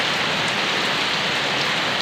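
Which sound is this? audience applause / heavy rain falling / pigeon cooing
heavy rain falling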